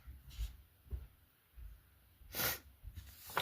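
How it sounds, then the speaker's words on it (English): Several short, soft sniffs and snorts through the nose, spaced irregularly, close and quiet with faint breathing between them. "Sorry for the sniffles."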